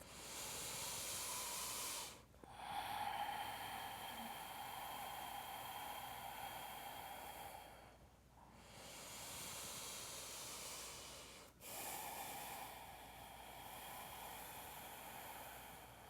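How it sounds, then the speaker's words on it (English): Deep ujjayi breaths drawn through the nose during a power yoga flow, a steady breathy hiss that fills most of the clip, broken by three short pauses between inhales and exhales, close and fairly quiet. "deep ujjayi, breathing through the nose"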